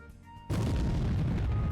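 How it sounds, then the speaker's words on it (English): A single sudden explosion from the video game Lunar: Silver Star Harmony, a loud booming burst that cuts in abruptly and rumbles on steadily. "Incoming explosion"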